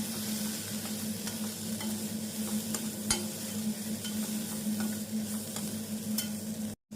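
Onion and drumstick leaves sauté in a pan for stuffed chapati filling, giving a steady close sizzle with occasional spatula scrapes and taps, cut off by a brief gap near the end.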